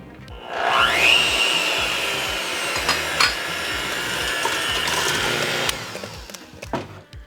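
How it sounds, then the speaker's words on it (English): An electric mixer on low speed beating an egg into creamed butter and sweetener for keto cookie dough, a steady whirring drone with a brief rising whine near the start and a few knocking bumps, ending slightly uneven. "we're gonna add in the egg and we're gonna beat it on low"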